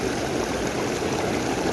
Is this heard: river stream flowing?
yes